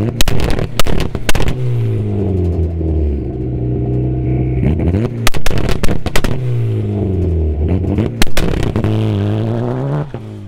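Turbocharged Mazda Miata on launch control, engine held at a droning rev limit while the exhaust fires loud, rapid popping bangs in bursts, close and alone.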